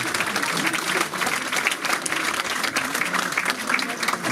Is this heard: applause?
yes